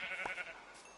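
A Minecraft sheep gives one short, nasal bleat near the start, close and fairly clear against quiet background hiss, then fades away.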